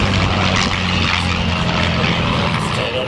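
A WWII P-51 fighter flies past at the 2008 Watsonville air show, its propeller engine a loud, steady, close drone with a throbbing low rumble throughout; no talking.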